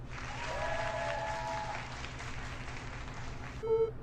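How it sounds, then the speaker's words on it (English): An audience bursts into wild applause, a faint, distant wash of many hands clapping that holds steady for several seconds before thinning out at the end. "The audience applauded wildly"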